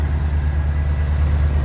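A truck engine idles steadily just after starting, a low, even rumble close by with no talk, during an antifreeze leak and thermostat repair.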